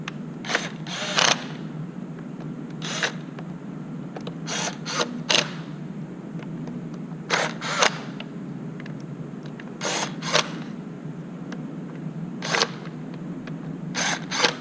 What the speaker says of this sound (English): And then tighten the screws.